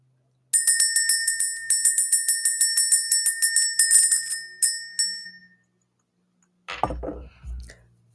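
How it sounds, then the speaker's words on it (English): A small hand bell is rung to clear energy, struck rapidly about twenty times in a bright, close, ringing run, then a few slower strikes fade out before some low handling thumps. "Let's ring the bell."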